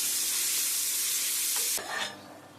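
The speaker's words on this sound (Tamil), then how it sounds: "நம்ம போட்ட மசாலாலாம் சேர்ந்து குழம்பு நல்லா கொதிச்சிருச்சு" Country chicken curry (kuzhambu) with masala bubbling and hissing hard in a pot, a loud continuous seething that drops abruptly near the end to a quieter simmer.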